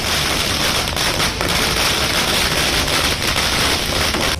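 Firecrackers bursting nonstop at a party workers' celebration, a dense, loud crackle of overlapping pops and bangs filling the whole stretch with no pause.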